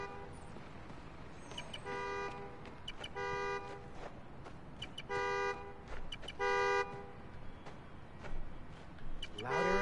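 A car horn honks in short repeated bursts from a key fob in a Spider-Man video game, some single and some doubled, at moderate volume against a noisy background.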